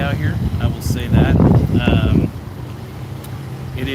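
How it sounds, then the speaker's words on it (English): Strong gusts of wind buffet an outdoor microphone, loud at first under a voice, then easing to a steady blustery rumble. "It is insanely windy out here"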